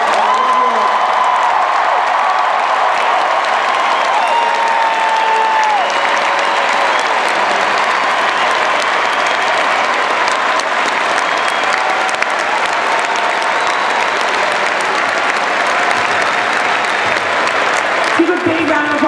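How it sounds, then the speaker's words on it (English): Large crowd of students at THON applauding Jay Paterno, a sustained loud wall of clapping with scattered cheers and whoops lasting throughout. "Give a big round of applause for Jay Paterno, please."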